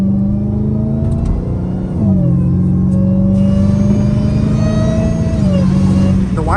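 A catless Dodge Hellcat Redeye drives at night with a loud, steady engine drone and a high supercharger whine that shifts in pitch as speed changes, heard from inside the car with no talk.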